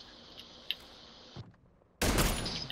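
Video game gunfire: a faint whine and small clicks, then a loud sustained burst of rapid shots that fills the end of the clip.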